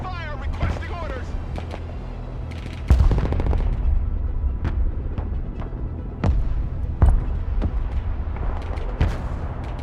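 Combat gunfire from the modern-warfare strategy game Broken Arrow: repeated sharp shots and heavier booms punctuate a dense battle din, with several loud reports at irregular intervals over steady rumbling background noise.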